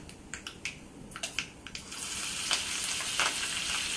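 Green chillies drop into a hot mustard seed tempering, giving a few sharp crackles and pops at first and then a steady, fairly quiet sizzle that fills the rest.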